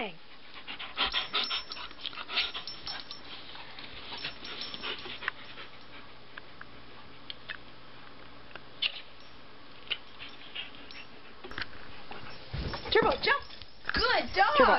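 A dog pants steadily up close, with quick breathy huffs throughout, and a person talks and gives praise toward the end.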